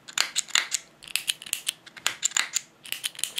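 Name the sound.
3PDT foot switch clicking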